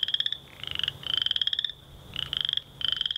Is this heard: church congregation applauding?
no